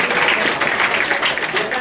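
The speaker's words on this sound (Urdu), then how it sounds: "زوردار تالیاں." Loud applause from a school audience cheering quiz toppers at a prize ceremony, a steady dense wash of clapping throughout.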